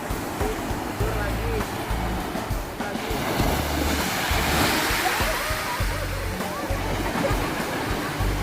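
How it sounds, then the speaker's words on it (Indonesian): High ocean waves break on the shore at Pulau Tangkil, a loud continuous roar of surf and wind buffeting the microphone, with voices faintly under it. "Nah, tinggi tuh ombaknya."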